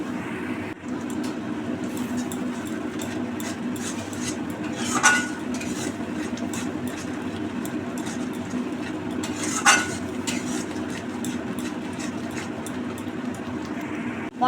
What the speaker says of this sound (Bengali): সামান্য জল দিয়ে দিয়ে কষতে হবে।